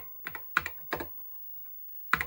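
Keys on an Apple IIe computer keyboard fitted with a Z80 SoftCard are struck in a few separate clattering bursts, close and clear, with short pauses and a longer gap before the final press.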